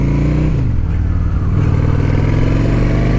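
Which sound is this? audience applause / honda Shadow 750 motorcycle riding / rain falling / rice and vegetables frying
honda Shadow 750 motorcycle riding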